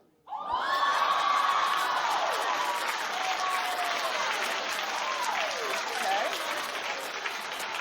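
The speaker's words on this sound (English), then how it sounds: "I'm clapping for Kevin Hart." A television talk-show studio audience breaks into loud, sustained applause with cheers and whoops, starting abruptly after a moment of quiet and holding steady throughout.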